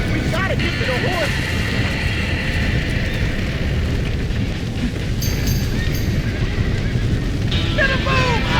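Trapped horses neighing in a burning stable in the Red Dead Redemption video game, shrill whinnies rising over a loud roaring rumble, with shouting voices mixed in.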